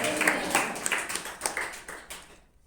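A church congregation at a fasting prayer service clapping, a burst of several quick, fairly loud hand claps that thins out and fades to silence at the end.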